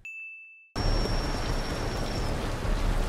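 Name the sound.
rain sound effect in The Walking Dead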